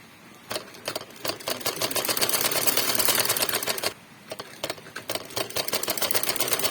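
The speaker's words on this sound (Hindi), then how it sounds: "अब दूसरी तरफ से सिलाई लगाने लगी हूँ" A sewing machine stitches the second side of a salwar, its needle running in fast mechanical bursts with brief pauses between runs, close and loud with no talking.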